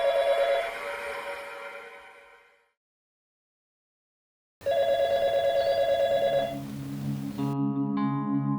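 A house telephone rings on and on without being picked up, a steady electronic tone that breaks off, falls silent, then resumes with a shifting ringtone.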